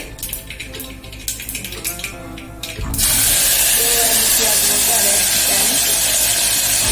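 Cluster beans (guar) dropped into hot oil for tempering a Gujarati desi guar shaak: after a few seconds of quieter kitchen sounds, a sudden loud, steady sizzling hiss erupts and holds.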